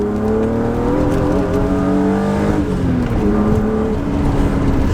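A BMW E36 drifting car with its engine droning steadily and loud, harmonic tones sliding and shifting as revs rise and fall while it drives, heard close and continuous with no talk.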